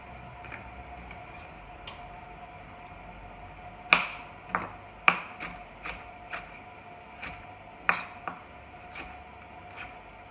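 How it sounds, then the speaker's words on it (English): A knife slices vegetables on a board in sparse, uneven taps and clicks, a few sharper strikes standing out over a faint steady hum, close and without talk. "slice them all up"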